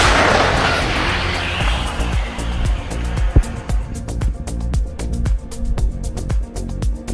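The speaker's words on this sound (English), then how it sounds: "Ukrainian artillery units received the coordinates and initiated the strike" Artillery strike by Ukrainian units, heavy booms and sharp shell detonations rolling out in a dense, loud barrage, one especially strong blast near the middle and repeated cracks following through to the end.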